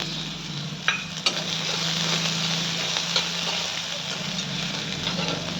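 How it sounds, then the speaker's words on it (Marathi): Chopped onion sizzling and frying in hot oil in a home kitchen pan, a steady crackling hiss throughout with a couple of sharp clinks from a utensil near the start. "आता आपलं तेल गरम झालं, आपण कांदा टाकून घ्यायचा तेलामध्ये"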